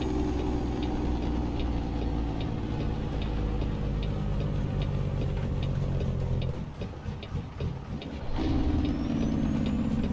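A Jake brake on a Peterbilt 359 in American Truck Simulator drones steadily under a regular ticking from the cab. Near the end the engine tone shifts and then rises again.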